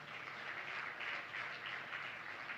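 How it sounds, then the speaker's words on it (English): Distant applause from a large crowd at a gender caucus meeting, a soft, continuous wash of clapping heard at low volume throughout. "Je vous demande de les applaudir très très fort."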